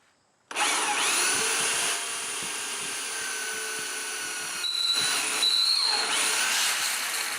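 A power drill bores into a Factory Five rear suspension or rear end part during installation, starting abruptly after a brief silence and running loud and close in a sustained whir, with small shifts in pitch as the load changes.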